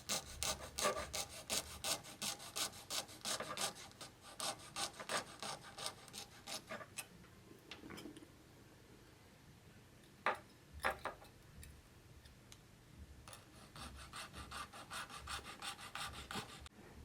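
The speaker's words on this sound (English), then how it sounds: "I'm going to cut and remove that back end of the guide so that it fits well within the recess. I'm just going to cut this with a saw" A hand saw cuts through a plastic Scalextric slot car guide in quick, close rasping strokes. The strokes pause in the middle, with a few isolated knocks, then the sawing resumes.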